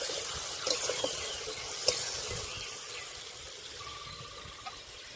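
Chili paste and a splash of water go into a pan of tilapia curry masala, which sizzles steadily with a few stirring clicks and a faint tap, the frying hiss easing toward the end.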